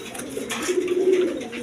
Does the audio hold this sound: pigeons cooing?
yes